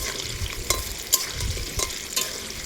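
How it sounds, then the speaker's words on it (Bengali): Potatoes dropped into hot oil in a small wok sizzle and fry steadily, a continuous close hiss with a few sharper crackles and stirring scrapes, no talking. "আলুটা দিয়ে দিচ্ছি তেল গরম হয়ে গেছে"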